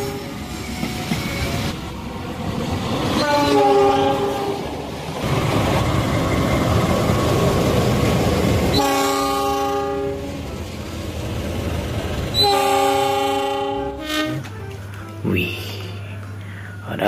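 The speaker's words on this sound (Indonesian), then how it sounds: "kita akan kumpulkan lagi lokomotif" A CC03 locomotive in a game runs with a steady rumble and sounds its horn in several loud sustained blasts, then fades to a low drone near the end.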